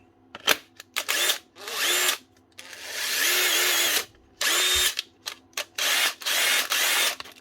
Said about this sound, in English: Shall do the drill next. The impactor.